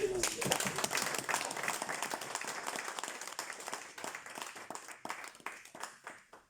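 A church congregation applauds at a worship service, a dense burst of clapping that thins into scattered claps, with voices briefly mixed in.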